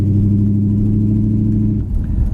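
A 1968 Plymouth Satellite with a 318 V8 idles through old, worn mufflers that are getting holes, giving a steady loud low rumble that loosens and wavers near the end.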